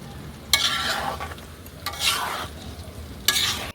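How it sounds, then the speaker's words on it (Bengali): Olives sizzle in hot oil in a pan as they are stirred for pickle, with a steady frying hiss. Three sharp scrapes of a spoon against the pan cut in, each followed by a brighter burst of sizzling. "এই তেলের মধ্যে আমি এখন দুই থেকে তিন মিনিট জলপাইগুলোকে ভালোভাবে নেড়ে চেড়ে মিশিয়ে নেবো"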